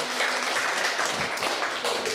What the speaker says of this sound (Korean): 다시 한번 굉장히 박수 보내주십니다.